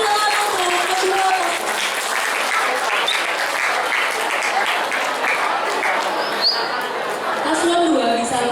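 Steady, dense applause from a crowd at a school student council election debate, loud and continuous throughout, with faint chatter mixed in.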